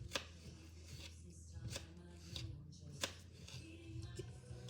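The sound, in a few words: chopping strawberries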